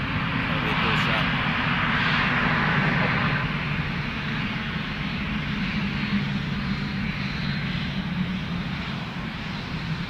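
A Boeing 787 Dreamliner jet taxis close by at Toronto Pearson airport, its steady, loud engine rumble and whine sustained throughout, with voices talking over it.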